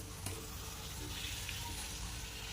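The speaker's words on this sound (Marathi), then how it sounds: "दोन्ही बाजून आपण याला छान तळून घेऊया" Bhature deep-frying in hot oil for dhaba-style chole bhature, a steady close sizzle and bubbling hiss running continuously with no talk.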